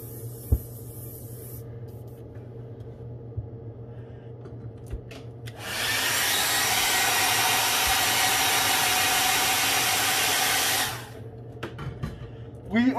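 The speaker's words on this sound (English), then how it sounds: "I can tell by the sound of the brush, we got a little clog going on here." Clogged airbrush spraying paint onto a Megabass S-crank style fishing lure, a steady loud hiss lasting about five seconds after quiet shuffling and light clicks, up close.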